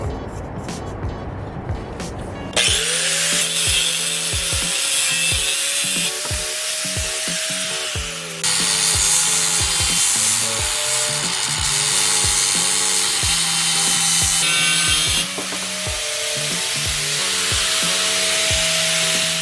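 Power saw cutting an angle into the steel frame of a Doodle Bug minibike, a loud steady grinding whine starting after a short quiet lead-in and running nearly unbroken, with brief dips in pitch as the blade bites.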